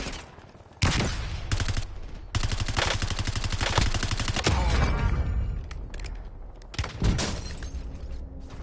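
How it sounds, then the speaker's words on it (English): Rapid gunfire from a Warzone battle royale match, dense bursts and volleys of automatic fire crackling close and loud across the whole stretch, with brief pauses between strings of shots. "I'm taking fire."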